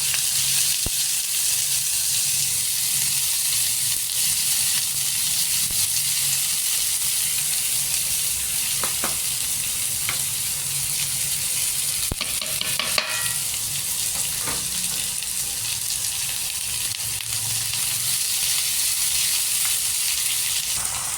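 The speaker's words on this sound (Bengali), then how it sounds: "দিয়ে দিলাম একটু রসুন বাটা, একটু আদা বাটা আর পেঁয়াজ দিয়ে এটাকে আমি এবার নাড়তে থাকবো" Garlic paste, ginger paste and onion frying in very hot oil, a steady dense sizzle running the whole time with occasional scrapes and knocks of stirring in the pan.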